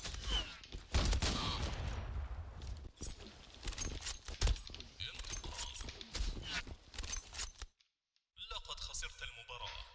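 Gunfire in the Zula online shooter, dense bursts and single shots with clattering effects over about eight seconds, then a brief silence before more game sounds; a voice talks intermittently.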